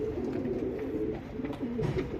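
A male single-tail pigeon coos in low, burbling phrases under a constant hum of other birds, with no speech.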